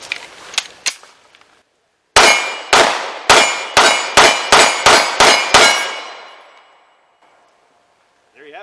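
FN 509M pistol, still damp after being submerged in water, fires a rapid string of about eight loud, sharp shots in close succession, each ringing out with a metallic tail, after a few lighter clicks and handling sounds.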